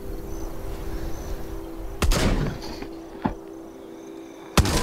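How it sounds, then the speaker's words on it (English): Gunfire in the VR zombie shooter Arizona Sunshine played in co-op, two or three loud single shots spaced apart over a low steady hum. "Yeah, baby, don't be shooting me."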